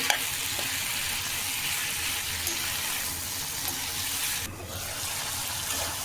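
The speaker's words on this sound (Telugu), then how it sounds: "ఇవి కొంచెం వేగిన తర్వాత ఉప్పు, పసుపు వేద్దామండి." Chopped dosakaya (yellow cucumber) and tomato fry in a pan, a steady close sizzle and hiss lasting throughout, with no voices over it.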